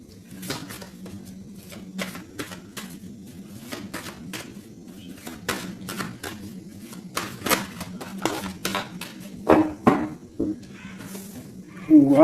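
A deck of tarot cards is cut by hand, giving a string of crisp papery snaps and light rustles, close and fairly quiet, ending in a louder flurry of clicks.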